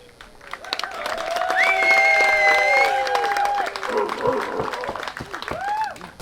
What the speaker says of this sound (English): I would like everybody to cheer for the newlyweds